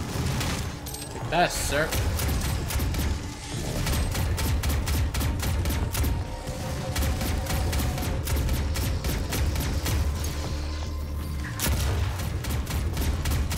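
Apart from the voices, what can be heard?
double-barrel shotgun fire in the video game DOOM SnapMap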